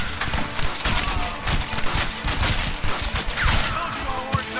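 Dense, rapid gunfire in the Red Dead Redemption video game, a loud continuous barrage of overlapping shots and thuds up close, with a voice briefly heard under the shooting.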